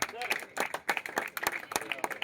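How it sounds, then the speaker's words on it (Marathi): An audience at a wrestling bout claps for two girl wrestlers, giving a short burst of scattered, uneven applause mixed with voices. "त्या दोन्ही मुलीसाठी एकदा दोनदा टाळ्या तरी करायची"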